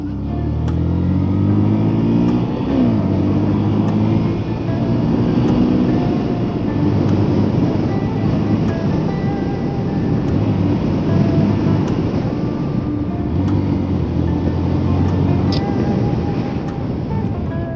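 A motorbike being ridden, its engine running loud and close throughout with shifting pitch as it speeds up and eases off, mixed with steady road and wind rush and no talk.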